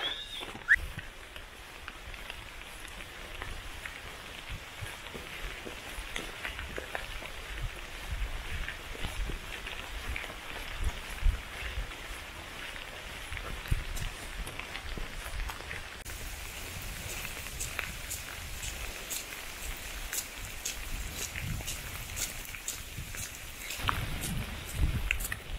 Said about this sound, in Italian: Piove di brutto